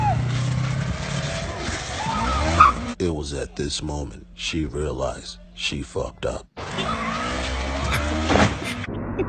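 A motorcycle skids during a crash as tires scrape and squeal in a long, loud smear that cuts in and out, with a voice talking over it.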